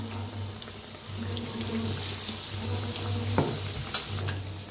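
Vada for Nashik ulta vada pav sizzles steadily as it deep-fries in hot oil, with a continuous close bubbling crackle and occasional clinks of a utensil, no voices.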